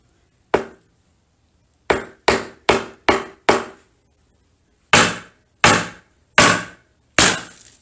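Tempered glass is struck repeatedly with a screwdriver until it breaks: a dozen sharp, loud, close impacts in irregular groups, each ringing briefly, with no talk.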